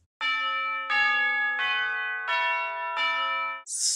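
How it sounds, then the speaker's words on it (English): A sampled tubular bells instrument from an Ableton Live Simpler preset strikes five clear, ringing chime notes in an even descending-step rhythm, each sustaining with bright metallic overtones, loud and isolated. "It's an Ableton Live simpler preset called Tubular Bells."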